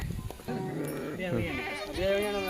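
A goat bleats with a wavering, nasal cry, close and loud, repeated a couple of times while people talk nearby at a goat sale.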